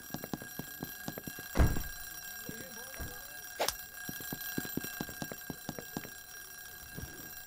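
A fire alarm rings in the office game Dale & Dawson Stationery Supplies, a fast metallic bell clatter running throughout, broken by a few louder thumps and bangs.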